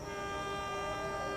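Local Garut Cibatuan train at Gedebage station, heard as a steady, faint tonal drone like a sustained horn or running engine, with no talking.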